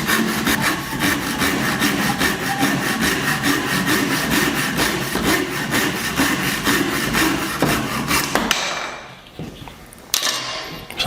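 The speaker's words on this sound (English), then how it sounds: "the kerf itself guides the saw really well, because it's a very thin kerf" A Japanese pull saw with a thin 0.6 mm blade cuts a wood miter in steady, rapid strokes, close and loud, then stops near the end, leaving a few soft handling sounds.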